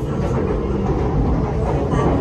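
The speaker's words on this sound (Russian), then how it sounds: "Это вот надземное метро, которое получается на втором этаже" An elevated metro train in Bangkok, running on a second-storey viaduct, gives off a loud, steady rumbling roar throughout, with no pause and no talk.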